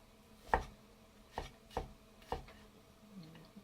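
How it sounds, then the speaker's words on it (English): A knife chopping small garlic cloves on a cutting board gives four distinct, fairly quiet knocks at irregular intervals in a quiet room. "just randomly chopping them on the board"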